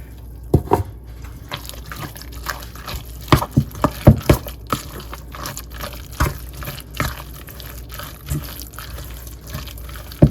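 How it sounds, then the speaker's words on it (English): Water added to flour for a saltfish fritter batter, heard as irregular splashes, drips and wet slaps scattered through a quiet kitchen background, close and moderately loud. "Add more water to it."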